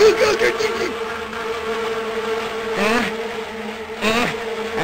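A steady, droning insect buzz of bees hums throughout, with voices talking over it at moments.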